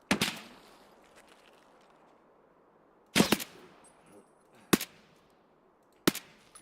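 Gunfire in the Escape from Tarkov video game: one burst of shots at the start, then a cluster around three seconds and two single sharp cracks later, each ringing out with a short tail over a quiet background.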